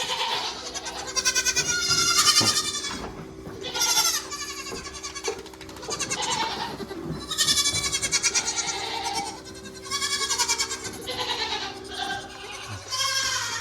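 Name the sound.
goats bleating in a barn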